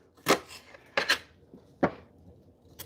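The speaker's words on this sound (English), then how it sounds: "But yeah, cutting onions." Onions cut on a board: a few separate knife chops, crisp and close, spaced irregularly across a quiet background with no talking.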